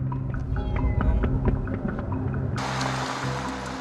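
A cat trapped inside a drain under a crosswalk meows again and again, its cries echoing over a steady low rumble of passing traffic, before a sudden wash of hiss takes over near the end.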